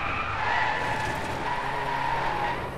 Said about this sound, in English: This is time for a bit of a drift.